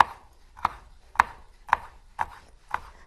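A knife slices through zesty salad vegetables on a kitchen cutting board, six crisp, evenly spaced chops about half a second apart, close and distinct with quiet pauses between.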